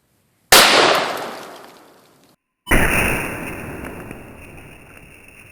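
.500 Smith & Wesson Magnum rounds fired into an ice target: two sharp, loud reports a couple of seconds apart, each followed by a long decaying outdoor echo.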